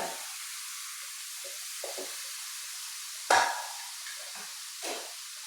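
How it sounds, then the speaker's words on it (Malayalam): Leaves for a Kerala thoran are stirred in hot oil, giving a soft, even sizzle broken by a few scraping stirs and one sharper clack of the spoon against the pan. "ഇനി നമ്മളെ ഇല ഇട്ട് കൊടുക്കുക, നല്ലൊന്ന് ഇളക്കി മറിച്ച് കൊടുക്കുക."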